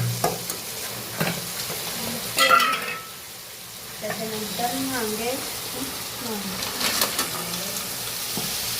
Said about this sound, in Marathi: तर बघा आता ना खेकडे सुद्धा टाकून घ्यायच्यात